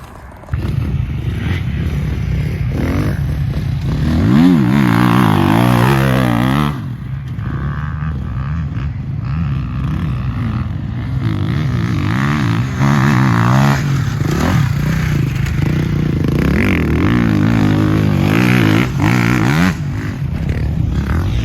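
Several motorcycles ride laps on a race track during a final practice session before a race, their engines droning loudly and continuously with rising and falling revving sweeps as bikes pass nearby.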